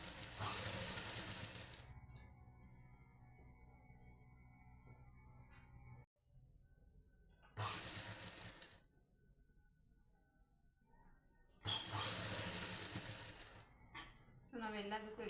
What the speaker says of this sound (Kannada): ಸೊ ಈಗ ನಾವು ಸ್ಟಿಚ್ ಹಾಕ್ಬೇಕು.